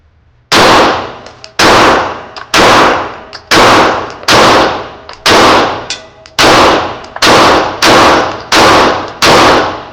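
A Shadow Systems CR920XP pistol fires defensive rounds outdoors: ten sharp, loud reports at a steady, roughly one-per-second pace, each with a short ringing tail.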